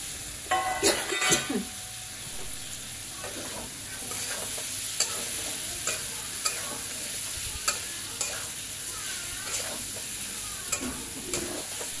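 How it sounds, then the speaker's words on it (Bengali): Fried potatoes tossed into mutton in a pan are stirred steadily, with repeated scraping clicks of the utensil over a continuous close sizzle. "ভাজা আলুটা এবার দিয়ে দেব মাংসের মধ্যে"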